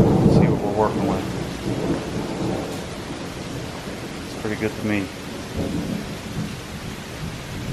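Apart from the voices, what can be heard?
rain and thunder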